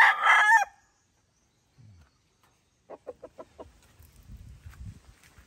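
A Sweater gamefowl rooster lets out one loud, close crow at the very start, followed by near-silence and a few soft clucks and scratchy rustles.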